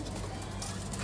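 Pigeons of the Abu Saud breed cooing on a rooftop, a pair giving soft, low, steady coos alone at moderate distance.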